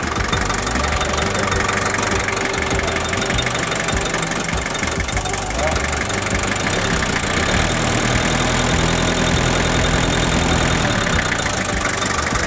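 A Daihatsu Taft diesel engine idles roughly and loudly close up, a steady clattering knock running unbroken through the whole stretch with no talk over it.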